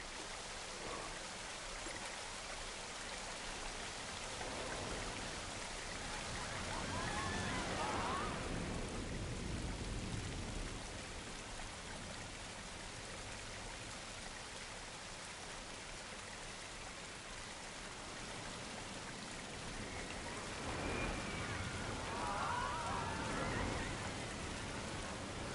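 A medium waterfall placed in a Planet Coaster 2 park gives a steady, hissing wash of falling water, continuous and moderately quiet, swelling slightly at moments.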